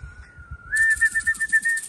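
Pet pigeons arrive with a sustained thin whistling tone, likely from their wings, close and alone for under two seconds, with faint soft flutter pulses beneath.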